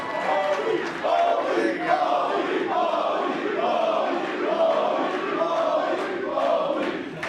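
A comedy-show audience chants rhythmically for a wrestler, a loud, roomy crowd repeating a two-beat chant in steady pulses throughout, with someone briefly speaking over it near the end.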